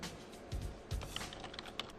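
Fingers tap out a new computer name on a keyboard in quick, light clicks, a short close burst of keystrokes with a few heavier thumps.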